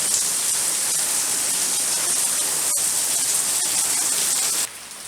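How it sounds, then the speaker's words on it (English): Heavy downpour roaring as a dense, even hiss of rain pounding on surfaces, steady and loud throughout before the level drops away sharply near the end. "now it's raining cats and dogs"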